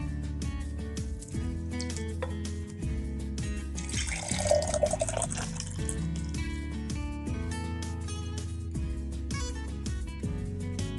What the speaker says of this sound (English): I have taken here some ice cubes in my serving jug, and I'm going to pour this juice.